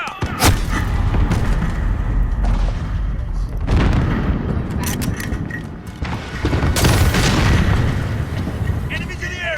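Gunfire in Call of Duty: Modern Warfare: repeated heavy bursts of shots and booming blasts crash through a loud, continuous battle din.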